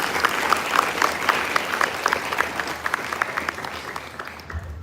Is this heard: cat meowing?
no